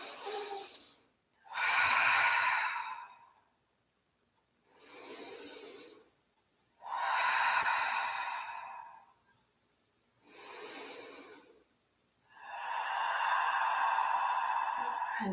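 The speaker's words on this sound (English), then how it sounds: "We're taking 3 big cleansing breaths." Three slow, deep cleansing breaths taken during a yoga pose, each a long airy inhale followed by a fuller, louder exhale, close and alone with quiet gaps between.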